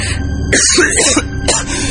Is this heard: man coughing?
yes